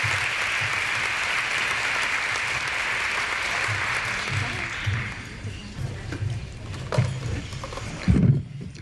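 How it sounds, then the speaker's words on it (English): A business event crowd at a regional chamber women-in-business gathering claps steadily for several seconds, then the applause thins out and fades as low murmurs and a few scattered claps remain near the end. "let's give her another round of applause"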